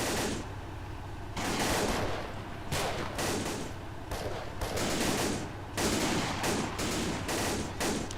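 Gunfire in the WWII video game Iron Front: Liberation 1944, with an MG42 machine gun and a tank firing HEAT rounds at infantry across an open field. Dense bursts of automatic fire and heavy shots recur in loud volleys with short lulls between them.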